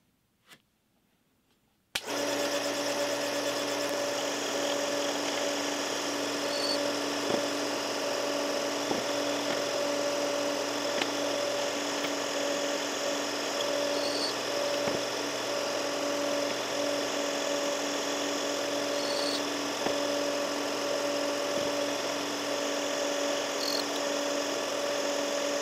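A Frankford Arsenal Case Trim & Prep Center trims rifle cases with a continuous electric motor drone after a quiet start, broken by small periodic clicks and ticks as each case is worked, heard close and without talk.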